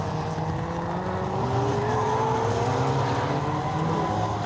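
Super Modified rallycross cars race in an A final at Blyton Park, several engines revving hard together in a loud continuous roar with rising and falling engine tones.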